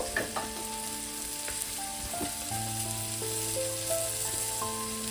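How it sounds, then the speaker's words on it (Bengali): Spices with turmeric, cumin and coriander powder fry in a pan for an amudi fish curry, a dense, close sizzle with a few stirring clatters and faint tonal hums underneath. "ওটাকে আমি ভালো করে মশলাটাকে একটু কষিয়ে নেব"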